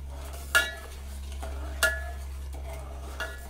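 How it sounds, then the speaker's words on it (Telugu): A spoon stirring sugar into boiling water in a pot for gelatine jelly, three distinct metallic clinks against the pot spaced over a steady low simmering hum. "షుగర్ వేసుకొని కలుపుకుందాం ఫ్రెండ్స్"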